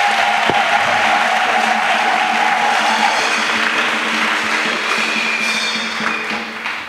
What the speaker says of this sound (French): Acclamation à Jésus-Christ.